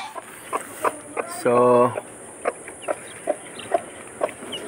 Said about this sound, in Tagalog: Rhode Island Red din to